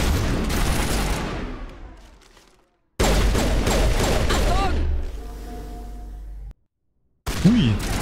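Pistol fire in the video game Mass Effect, loud bursts of shots and booms in two sections broken by brief silences, with a voice talking over parts of it.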